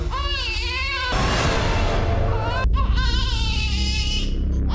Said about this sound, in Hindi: घर में पिछले 4 घंटे से बच्चे की रोने की आवाज आ रही है